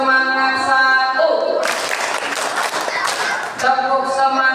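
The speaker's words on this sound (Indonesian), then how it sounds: "Tepuk semangat satu" Rhythmic group clapping of a 'tepuk semangat' spirit clap, first round, at a children's Islamic class, a loud burst of hand claps lasting about two seconds between stretches of chanting voices.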